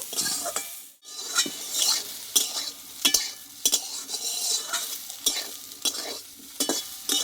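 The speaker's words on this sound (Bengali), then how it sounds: "সবিনের যদি একটা কাঁচা গন্ধ থাকে একটু তেলে কষে নিলে কিন্তু চলে যাবে আমি অল্প করে দু মিনিট মতো এইভাবে কষিয়ে নেব" Soybean chunks are stir-fried in oil in a kadai: a spatula scrapes in regular, repeated strokes over a continuous close sizzle, with no talking.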